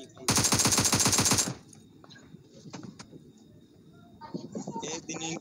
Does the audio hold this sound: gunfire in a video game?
yes